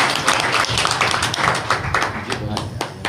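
At a political party joining event, a crowd claps in dense, uneven bursts while a speaker talks loudly over the clapping throughout.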